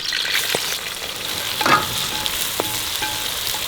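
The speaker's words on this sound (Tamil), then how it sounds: "வெங்காயம் நல்லா பொன்னிறமாக வதங்கணும், அப்போ தான் டேஸ்ட் வரும்" Half a kilo of finely sliced onions fry for chicken biryani in a pan, making a loud, continuous close sizzle with a few brief stirring scrapes and no talk over it.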